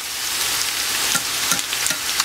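Scallops sizzle steadily in a hot pan while being cooked for a Thai red curry, a close, continuous crackle with small pops and spatters.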